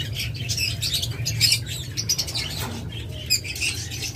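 A pair of violet mask lovebirds in a cage chirps in quick, bright bursts, with soft flutters of movement. The calls are close and steady over a low background hum, and no one speaks.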